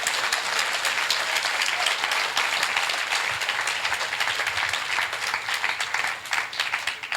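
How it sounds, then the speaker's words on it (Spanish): A church congregation claps in praise during a Spanish-language evangelistic service, a dense, even roar of many hands sustained throughout, loud and close with little else over it. "Palmas al Señor,"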